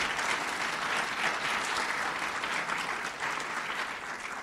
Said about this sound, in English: that round of applause goes to all of you who really worked hard